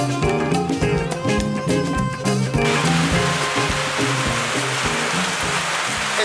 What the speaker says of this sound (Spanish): Llueve, llueve.